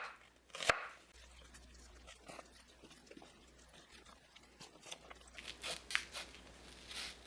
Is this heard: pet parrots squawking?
no